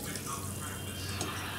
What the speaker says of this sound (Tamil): 6 கப் தண்ணி இதில் ஊற்றிடுங்க